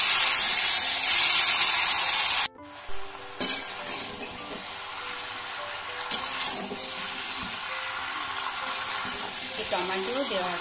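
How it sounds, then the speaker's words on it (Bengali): Marinated chicken hits a hot pan over a low-to-medium gas flame with a loud burst of sizzling that abruptly drops, then settles into quieter frying with occasional stirring scrapes close by. "ম্যারিনেট করা পুরো চিকেনটা আমি দিয়ে দিলাম। আবারও নাড়াচাড়া করে নেব"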